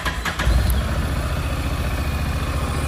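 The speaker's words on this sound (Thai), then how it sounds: "เดี๋ยวสตาร์ทเครื่องยนต์ดีกว่า" A 2014 Honda NC750XD motorcycle with DCT gearbox starts up close by, the starter catching in a brief burst before the twin settles into a loud, steady, throbbing idle.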